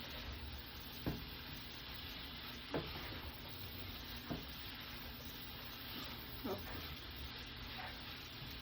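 Bacon, sausages and cabbage sizzle softly in a pan as they are mixed together, with a few distinct scrapes and knocks of stirring at intervals over a steady frying hiss.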